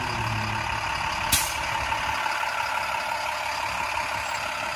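A tractor trailer truck backing up, its engine running in a steady droning rumble with a brief sharp hiss of air brake release early on.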